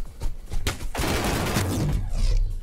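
A shotgun-style machine gun fires in an Energy Assault video game, a brief close volley of rapid shots over a low rumble.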